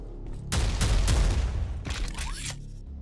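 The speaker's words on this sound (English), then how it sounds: "And now we've got 3 kinds of shotguns." A ricocheting shotgun in the video game Prodeus fires in two heavy bursts, each a sharp booming blast trailed by rapid rattling impacts and a metallic scrape, loud and close with a short gap between.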